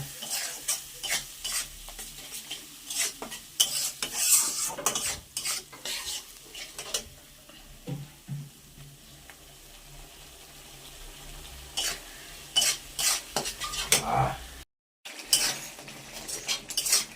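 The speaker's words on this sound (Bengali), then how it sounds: "এই যে মশলাটা কষাচ্ছি এখন।" Spice paste with Kashmiri chilli powder being stirred and fried for a pointed gourd dish, a spoon scraping the pan in repeated close strokes over a soft steady sizzle.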